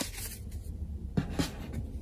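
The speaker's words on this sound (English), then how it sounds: "Let me shuffle my decks here a little bit" Tarot card decks are shuffled by hand, giving soft papery riffles and a couple of sharper card slaps, close and fairly quiet with no talk.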